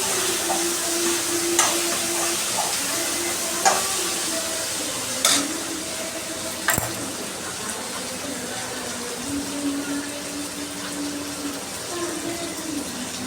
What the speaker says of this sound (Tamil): அங்கே காய் வந்து வதங்கிட்டுருக்கு அதுவும் நல்லா வதங்கிடுச்சு